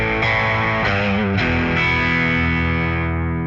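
Tube-driven electric guitar with mild overdrive from pushed tubes rather than heavy distortion, a ratty, gritty tone ringing out as a few struck chords that sustain and decay, loud and close with no talking.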